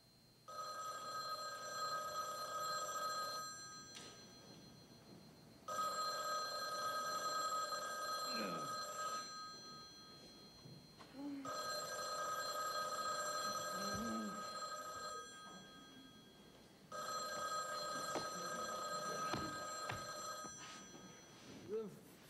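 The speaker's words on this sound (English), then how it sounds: "Hey, I think the phone is ringing." A telephone bell rings in four long bursts with short pauses between them, and voices murmur faintly underneath, in a staged morning scene from a radio play.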